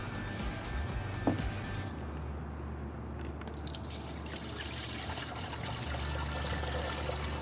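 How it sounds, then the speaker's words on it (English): VectoBac WDG spray mix is poured through the built-in top filter into the tank of a Stihl SR450 sprayer, a soft, continuous trickle and gurgle of liquid, fairly quiet and close. "we want to pour our spray mix in through that filter"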